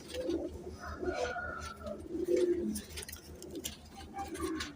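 A frozpuri pigeon coos repeatedly at close range in soft, throaty phrases over a steady low pulsing background hum.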